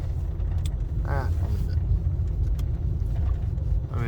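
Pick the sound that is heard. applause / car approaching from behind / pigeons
car approaching from behind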